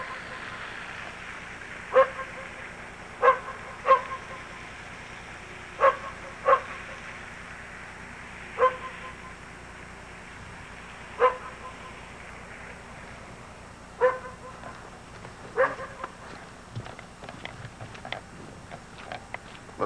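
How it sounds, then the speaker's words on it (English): A dog barks outdoors in a snowy housing area after a heavy snowstorm, with scattered sharp single and double barks spread over a steady background hiss, fairly distant, with some faint talk nearby. "Shut up, you goddamn dog."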